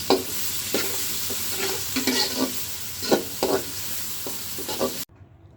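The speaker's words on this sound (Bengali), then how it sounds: "কই মাছটা তেলের উপর হালকা ভাজি করে নিচ্ছি।" Koi fish sizzle steadily as they fry lightly in hot oil, with intermittent stirring scrapes and clinks close by, before the sound cuts out abruptly.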